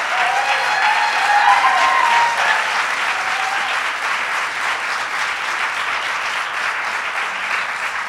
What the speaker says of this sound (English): Let's give a warm welcome to all the advocates who have worked so long and so hard for so many years.